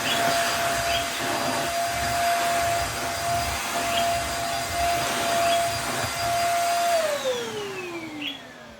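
A salvaged Beldray corded stick vacuum cleaner with a 600-watt motor runs loud and steady, holding a constant whine, then winds down in pitch near the end as the motor slows.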